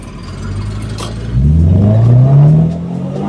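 Supercharged 2012 Toyota GT86 with a catback exhaust revs up, the engine note rising steadily to a loud peak and then easing off, heard close with no talking.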